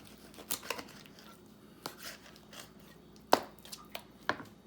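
A knife cuts through the joint of a whole raw chicken being broken down into pieces, producing a few close, sharp crunches and slicing snaps spaced irregularly over a quiet background.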